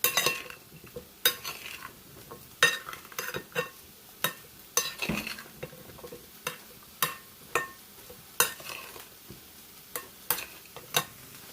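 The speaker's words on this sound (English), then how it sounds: "Stir it up real good." Salted vegetables sauté in a pan while a utensil stirs them, giving a continuous low sizzle broken by regular sharp scrapes and clinks against the pan, close and fairly loud.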